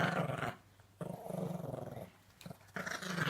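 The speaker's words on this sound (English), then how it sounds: "That was Molly growling" A dog growls low and close in three rumbling stretches separated by short pauses.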